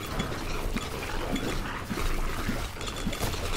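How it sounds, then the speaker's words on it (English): Evil dogs swarm in the dark fantasy game Halls of Torment, their growls and yelps blending into a steady, busy wash of creature noise beneath the game's ambient score. "Here come the evil dogs again."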